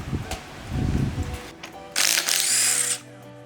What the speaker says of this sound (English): We're going to whip the flywheel off, which is these 1, 2, 3, 4, 5, 6 bolts.